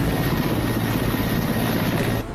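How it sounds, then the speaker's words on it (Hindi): An Air Force helicopter delivering relief supplies to flood- and landslide-hit villages produces a loud, steady rotor-and-engine drone with a dense low thrum that holds constant and dips slightly at the very end, with no speech. "प्रभावित लोगों तक वायुसेना के हेलीकॉप्टर के जरिए राहत सामग्री पहुंचाई जा रही है।"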